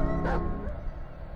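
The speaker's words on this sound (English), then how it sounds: "I swear, that dog doesn't shut up!" A dog in the Layers of Fear Inheritance video game gives one short, close yipping bark over a dense, droning ambient background, followed by a fainter whimper.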